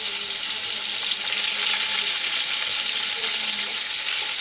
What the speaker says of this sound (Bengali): এবার আমাদের 5 ফোড়নটা যেই একটু ভাজা ভাজা হবে